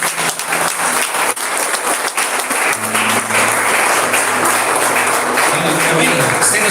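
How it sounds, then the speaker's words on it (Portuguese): A church congregation claps in praise, loud, sustained applause from many hands filling the room, with a voice and a held musical tone running beneath the clapping. "Exalta o Senhor com as palmas"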